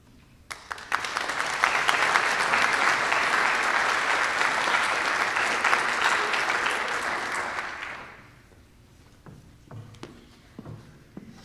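Loud, sustained clapping from an audience at a National Honor Society induction ceremony, swelling quickly and holding for several seconds before fading out, leaving scattered room noise and a few stray claps.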